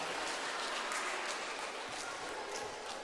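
Steady applause from an audience praising girls for their craft work at a children's Ritter Rost show aboard a cruise ship, a dense even patter of many hands held at a constant level for about three seconds.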